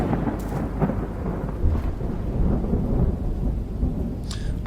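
A video game thunderstorm on the sea: steady heavy rain hisses throughout, with low rolling thunder rumbling loud and close and no voices.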